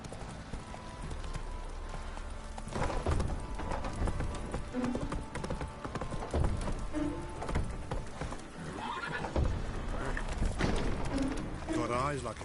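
Horses clip-clop with steady hoofbeats and occasionally neigh in The Witcher 3: Wild Hunt. The hooves run continuously under other game audio and voices.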